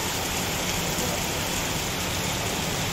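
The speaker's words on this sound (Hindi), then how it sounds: "वर्षाटा केते जोर हो" Heavy rain pours down during a monsoon downpour in Odisha, a dense, continuous hiss of drops at close range with no pauses.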